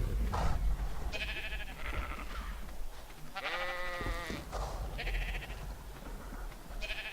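Sheep in the video game ARK: Survival Evolved, gathered in a fenced pen by a feeding trough, bleat repeatedly and loudly in overlapping calls over a steady low background hum.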